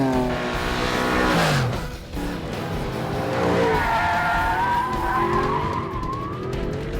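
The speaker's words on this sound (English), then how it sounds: "cars drive by at 100 miles an hour 2 feet away from them" A race car roars past at about 100 miles an hour two feet away, its engine pitch sweeping down, then another revving engine screams by with a tyre squeal.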